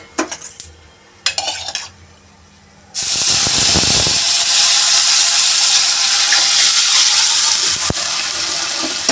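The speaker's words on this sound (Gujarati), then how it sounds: "હવે આપણે આ વટાણાનું નાખીશું।" Peas tipped into a hot pan for Gujarati sev usal set off a sudden loud, steady sizzling hiss that lasts for several seconds, after a few clinks of utensils against the pan.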